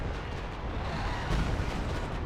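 Artillery pounds the battlefield in the Company of Heroes 2 game, a 4v4 match in Lienne Forest, with 105 and 240 strikes landing as a continuous low, rumbling roar and heavy impacts that swell slightly midway.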